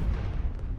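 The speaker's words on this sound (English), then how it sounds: "internal explosions within the rock face" Muffled explosions rumble inside a collapsing rock face in the Star Trek Online video game, a low continuous booming roar with no voices.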